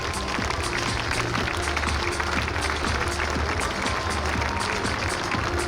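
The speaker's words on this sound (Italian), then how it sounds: "Un bello applauso per il C26 J Spartan." Crowd applause at the Jesolo Air Show for the C-27J Spartan transport aircraft, a continuous spread of outdoor clapping over a low, steady rumble.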